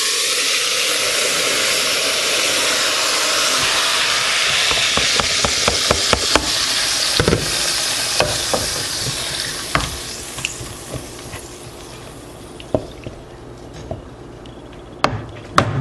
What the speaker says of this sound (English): Our oil seems to be hot. At this point, we just put in a mixture.